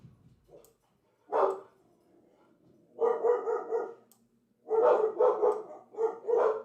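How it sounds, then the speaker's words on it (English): Two dogs bark in short bursts at a house, a single yip followed by clustered runs of several barks, moderately near and loud, with quiet pauses between and no talking. "those are my two dogs barking in the background"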